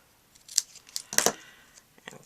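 Scissors snip thread or craft material for a jar-of-flowers project, giving a few crisp, close metallic clicks and one louder double cut amid light handling noise.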